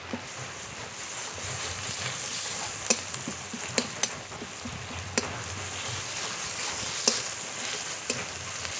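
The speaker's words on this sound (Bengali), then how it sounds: "আদা রসুন বাটা, শুকনো লঙ্কা জিরে বাটা একসঙ্গে কষিয়ে নেব।" Ginger, garlic, dried chilli and cumin paste frying with onion in a pan, a steady soft sizzle broken by scattered sharp ticks and clicks of stirring.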